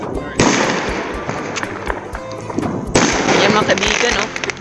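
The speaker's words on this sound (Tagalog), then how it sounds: "Kapitbahay namin may pa-fireworks." Repeated sharp crackling bursts of a neighbor's New Year fireworks popping outdoors at moderate distance, with voices chattering over them throughout.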